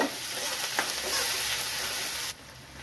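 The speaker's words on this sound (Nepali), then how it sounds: "प्याजलाई मजाले भुट्नु होला है त।" Onions fry in hot oil with a steady, close sizzle that drops suddenly quieter near the end, as if the heat or pan shifts.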